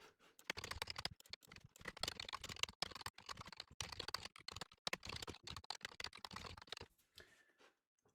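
Rust code being typed on a computer keyboard: rapid, close keystrokes in uneven bursts for about seven seconds, then a brief quiet pause, with no talking.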